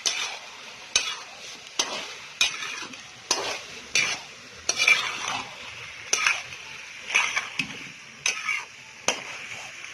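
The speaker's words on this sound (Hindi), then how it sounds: "अब इसमें डालेंगे मैकरोनी। तो अच्छी तरह मिक्स करेंगे।" Macaroni being stirred in a pan with sautéed vegetables: a dozen sharp scraping strokes of a spoon at irregular intervals, each followed by a short sizzle, close and moderately loud, with no talking.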